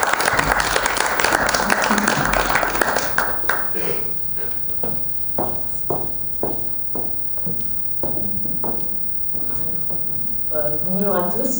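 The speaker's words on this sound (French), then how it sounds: "on peut maintenant l'applaudir" Applause at a film festival press conference starts dense and full, then breaks down into a handful of separate, spaced claps, after which a voice begins speaking.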